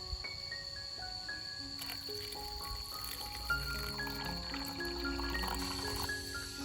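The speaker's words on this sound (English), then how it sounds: "Pour in 300 milliliters of water and stir well." Water is poured into a plastic cup holding chopped potato peels, a faint, steady trickle with rising filling tones, quiet and close with no voices.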